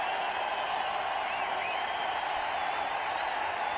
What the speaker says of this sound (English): As he raises his bat there, the crowd goes wild.